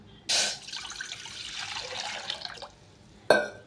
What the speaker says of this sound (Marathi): सगळ्यात आधी मी पाणी वरते पातेलत